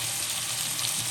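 Drumstick pieces sizzling in hot oil in a pan, a dense, continuous frying hiss with a low hum beneath, close and loud for a brief moment, with no voices.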